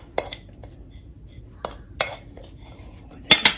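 Ingredients for spicy, crispy KFC-style fried chicken being mixed in a bowl, heard as a few sharp utensil clinks and scrapes against the dish, spaced irregularly with a quick cluster of knocks near the end, close and clear.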